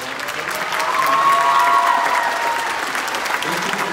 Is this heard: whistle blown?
no